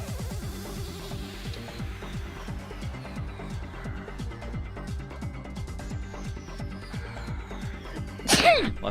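A single sharp sneeze bursts out near the end, loud and close, over steady rhythmic background music from a Danganronpa 2 gameplay session.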